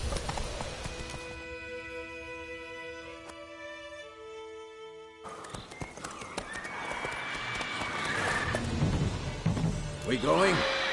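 Roach, a horse in the video game The Witcher 3, gallops in a rush of rapid hoofbeats that follow a stretch of music, growing louder and busier among other game sounds and voices.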